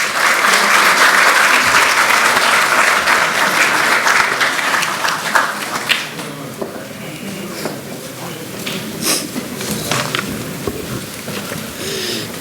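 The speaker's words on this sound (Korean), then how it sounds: "큰 박수로 모시겠습니다." An audience at a Korean ruling-party lawmakers' assembly in the National Assembly breaks into loud, dense applause that thins after about six seconds into scattered claps over the next several seconds.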